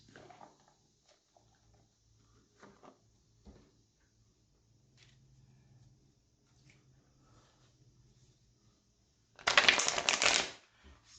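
Tarot cards shuffle in a short, loud riffling burst near the end, after quiet handling taps and rustles of the deck.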